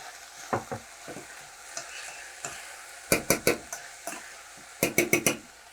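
Fennel being stirred in a hot pan where sugar is caramelizing, with a soft sizzle under repeated scraping spoon strokes, some coming in quick clustered bursts.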